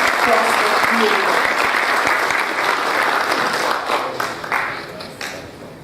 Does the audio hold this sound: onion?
no